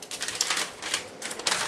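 Scissors snip through a paper sleeve pattern in a few quick crisp cuts with short pauses between, close and unaccompanied by talk.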